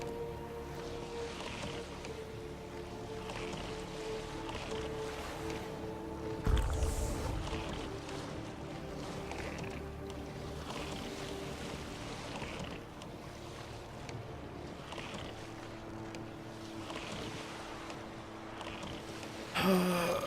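A boat sails in The Witcher 3: Wild Hunt, water lapping and wind rushing around the hull in a steady wash, with faint creaks, a soft thump midway and another near the end.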